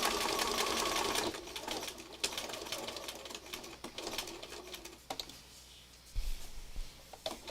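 A sewing machine stitches along the edge of fabric scraps in quiet, uneven runs, its soft whir broken by light clicks and pauses, faint and close.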